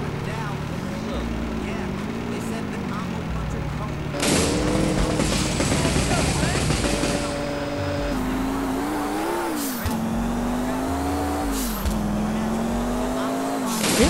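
A car engine drones and revs steadily in a GTA game, with the pitch rising and falling through gear changes and tires squealing at one point while someone talks over it.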